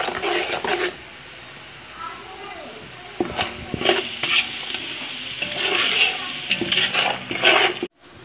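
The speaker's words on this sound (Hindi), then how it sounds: "बस इस मसाले को थोड़ा सा भून लेते हैं" Spice masala with ground dried coriander fries in a pan for a chicken daleem, a loud bubbling sizzle that swells and fades with stirring and spoon scrapes, cutting off abruptly near the end.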